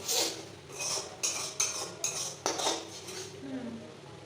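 A metal spoon clinks and scrapes against a pan while spice masala for aloo dum is sautéed, giving a series of sharp taps and scrapes over a faint low sizzle, close and moderately quiet.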